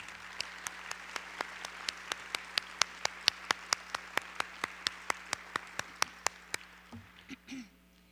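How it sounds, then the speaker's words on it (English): An inauguration audience applauds theater students with a steady, evenly spaced run of crisp single claps over a low room hum, fading into a brief murmur at the end. "Let's give them another round of applause."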